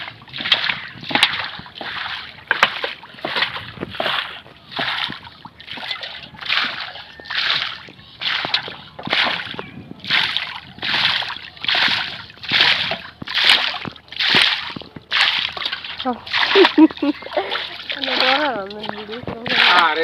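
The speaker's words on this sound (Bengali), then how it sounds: "নৌকায় হলো অনেক পানি ছিল পানি জমা ছিল এই যে পানিগুলো হলো ফালাইতেছে" Water is bailed out of a wooden riverside boat in the afternoon, a long run of regular splashing scoops and sloshes about every half second, close and loud, with voices joining near the end.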